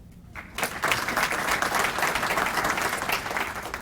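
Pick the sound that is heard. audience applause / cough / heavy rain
audience applause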